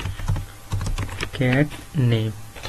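C++ code is typed on a computer keyboard in a run of quick, close keystroke clicks, while a voice speaks briefly over the later part.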